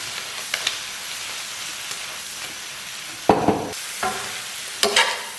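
Lamb offal stir-fries in a hot wok with scallion, garlic, soy sauce and chili powder, giving a steady sizzle that is broken by a few loud scraping tosses of the spatula near the end.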